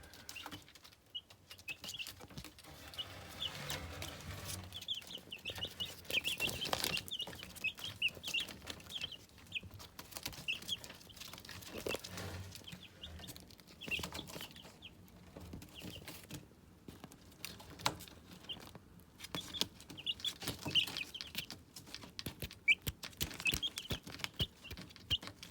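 Young hens in a coop cluck and squabble, scattered faint clucks and brief flapping bursts at a moderate distance over a quiet room-tone background, with no voices.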